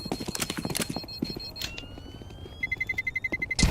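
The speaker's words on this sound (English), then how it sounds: "hears the footsteps" Footsteps in a Counter-Strike match at an ESL Challenger League game: quick, regular steps tapping steadily and fairly faint among scattered clicks and game sounds, growing louder and more rhythmic toward the end.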